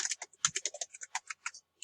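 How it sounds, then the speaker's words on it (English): Fast typing on a computer keyboard at a hotel reception property-management system, a close, clean burst of light key clicks in an uneven rhythm with a brief pause near the end and no voices. "I will type in Reception Academy."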